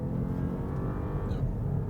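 Jeep Grand Cherokee engine with Maserati-developed Formula One technology, a steady low hum running throughout, close and fairly quiet with no talking.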